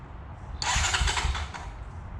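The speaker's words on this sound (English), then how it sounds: "Let's see if she cranks." Starter cranking on a Honda TRX250EX ATV, a short loud churning burst lasting under a second before dropping back to quiet, close by with no talking.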